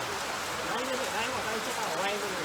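Heavy rain falls during flooding in Trinidad, a steady wash of rain noise under overlapping conversational voices.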